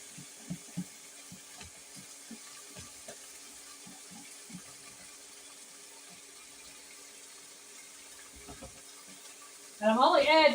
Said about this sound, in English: Now I'm going to add the water, 1/2 cup.